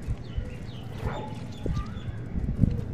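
A dog barks a few times at mid distance in the video game Far Cry 6, short yelps over a noisy ambient background with faint other game sounds.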